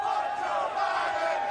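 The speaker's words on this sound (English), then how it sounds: "as you can hear the chants from the crowd" A large crowd at a NASCAR race chants in unison, a loud sustained mass of voices heard from a distance.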